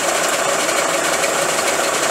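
A motor-driven rig switched on through a converter and turning at 60 RPM gives a loud, steady mechanical whir and rumble, continuous and close with no pauses.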